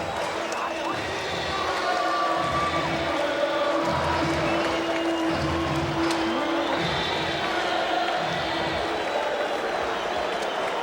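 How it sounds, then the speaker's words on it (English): Crowd at Shea Stadium during Game 7 of the 1986 World Series, a dense steady roar with rhythmic chanting throughout, heard at a distance under a broadcast voice. "Listen to this crowd and that chant."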